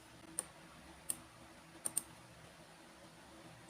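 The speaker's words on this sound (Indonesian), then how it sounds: "Di sini kita akan ketik" Five or so sparse, crisp keystrokes on a computer keyboard tick out at irregular intervals during data entry, faint and close in an otherwise quiet room.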